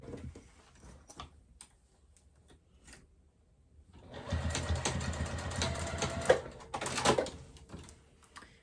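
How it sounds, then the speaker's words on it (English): Sewing machine basting a wristlet strap onto exterior fabric, running in a steady whirring burst of about three seconds after quiet handling clicks, close and moderately loud. "I'm just going to go ahead and baste that onto the exterior"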